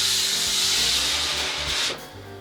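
A scraper drawn across a waxed snowboard at home, peeling off wax with a close, hissy rasping scrape that runs continuously, then drops away near the end.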